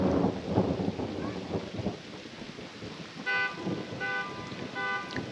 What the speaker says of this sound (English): you could hear the rain and the thunder